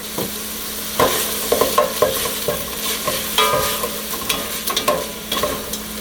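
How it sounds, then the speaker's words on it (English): Chopped onion and garlic fry with browned turkey in a chili pot, a loud, busy sizzle punctuated by repeated spoon scrapes and knocks against the pot, with no voices. "While those onions and garlic are cooking down"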